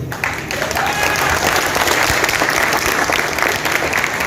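An audience bursts into steady, dense clapping during a motivational talk, loud and sustained throughout with a few voices mixed in.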